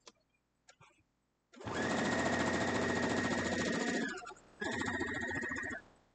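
A sewing machine stitching a quilt block, running in two steady buzzing bursts of several seconds each with a short pause between, close and loud, after a few light handling clicks.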